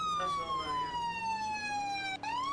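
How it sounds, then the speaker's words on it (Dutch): A police siren wails steadily during driving in a video game, loud and close, its tone sliding gradually downward, then dipping briefly before climbing again, with no voices. "als ik aan het rijden ben en die sirene is aan, dan is dat ook anders"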